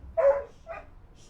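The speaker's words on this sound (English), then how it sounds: "Excuse the dog." A dog in the video game The Mystery of the Druids barks twice in quick succession, a loud first bark followed by a shorter, softer one, close by with no talk over it.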